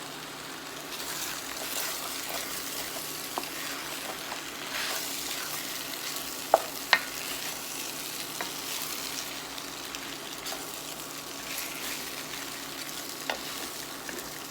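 Carrots and onions go into a pot of potatoes and water for a hearty beef stew and are stirred, giving a steady soft bubbling, scraping texture with a few sharp clinks of utensil on pot, no talking.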